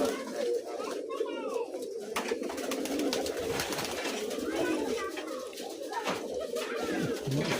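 Pigeons coo steadily nearby in a loft, soft repeated calls layered over one another, while people talk in the background throughout.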